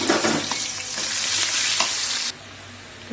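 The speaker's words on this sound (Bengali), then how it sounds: "তো আমি ওই তেলেতেই পেঁয়াজ দিয়ে দিচ্ছি।" Onions sizzling in hot oil left over from frying fish, a steady close crackle with stirring scrapes throughout, dropping suddenly to a quieter sizzle near the end.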